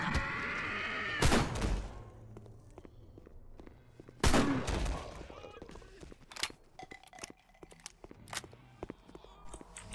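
Gunfire in the video game Hunt Down The Freeman: two loud, sharp shots about three seconds apart stand out above a busy background of smaller clicks, taps and game noise.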